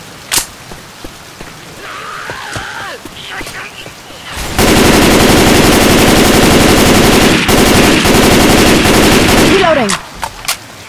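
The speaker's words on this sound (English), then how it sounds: "You're shooting me again." Sustained rapid automatic gunfire in the PC game Left 4 Dead 2 roars loud and continuous for about five seconds. It starts and stops abruptly, with scattered single shots and brief voices before and after.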